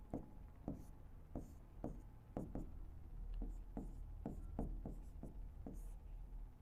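Chalk or marker tapping and scraping on a board while a tenth-grade trigonometry problem is worked out, about a dozen sharp strokes in an uneven rhythm over a low background hum.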